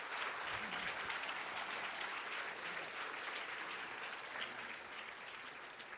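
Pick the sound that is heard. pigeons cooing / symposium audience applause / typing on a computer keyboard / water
symposium audience applause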